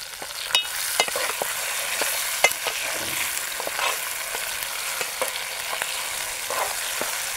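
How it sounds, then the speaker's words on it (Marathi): Onion frying in a pan until browned, a close, even sizzle broken by sharp clicks of stirring, with no talking. "कांदा लाल होईपर्यंत ठेवायचं असतं"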